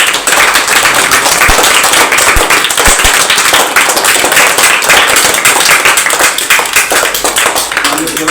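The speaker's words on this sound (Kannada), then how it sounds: "ಅವರಿಗೆ ಒಂದು ದಯಮಾಡಿ ಎಲ್ಲ ಮಕ್ಕಳು ಚಪ್ಪಾಳೆ ಬಾರಿಸಿದರು" Children at a school learning festival in Chincholi clap for a teacher, a dense, loud, steady round of applause from many hands nearby that keeps going without a break.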